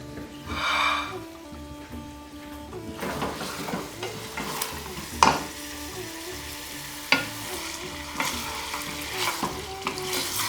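Beef frying for saag gosht in a pan over a medium-to-high flame, with steady sizzling as a utensil stirs and scrapes, and a few sharp metallic clinks against the pan.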